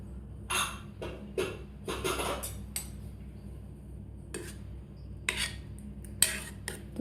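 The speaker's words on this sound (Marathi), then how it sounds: "तर आपण झाकण काढून बघूया." Metal lid of a pressure cooker being handled and removed after cooking rice kheer, a few sharp metallic clinks and scrapes in separate bursts over a quiet background, close and fairly crisp.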